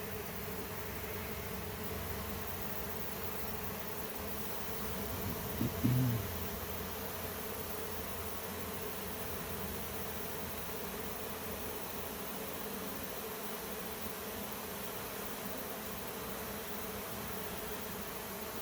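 Honey bee swarm buzzing steadily as the bees fly down toward a hive box at dusk, a dense continuous hum throughout with one brief louder swell near the middle.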